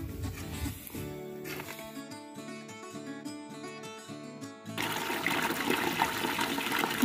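Water runs and splashes as it is drawn from a water tank on a rural property during heavy rain, a steady rushing pour that shifts to a more tonal filling sound midway, then returns to a louder broad gush.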